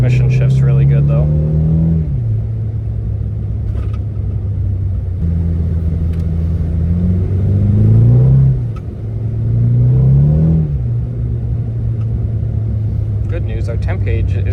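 Mitsubishi Eclipse driving in snow after a cold start at 5°F, its engine droning loudly up close and rising through repeated accelerations, with pitch dropping at each gear shift.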